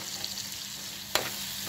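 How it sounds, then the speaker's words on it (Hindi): Masala spices fry in hot oil with a steady, close sizzle, and one sharp crackling pop stands out near the end. "मसाले को फिर अच्छे से भून लेंगे।"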